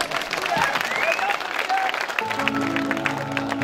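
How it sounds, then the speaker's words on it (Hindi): Crowd clapping and cheering at a Navratri Mata ki Chowki gathering in Mira Bhayandar, a steady wash of applause with whistles and voices mixed in, followed by a low sustained hum from the sound system. "क्या तालियां नहीं, खुशी नहीं है?"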